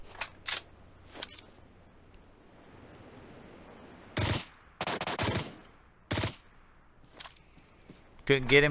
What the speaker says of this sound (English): I'm going to keep shooting at this guy, though, until I feel safe.